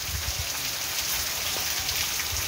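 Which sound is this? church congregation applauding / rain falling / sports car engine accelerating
rain falling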